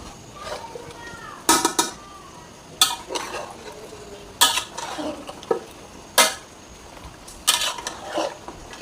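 Beef curry being stirred in a cooking pot, with a spoon scraping and clinking against the metal in irregular bursts, close by and fairly loud against a low background hiss.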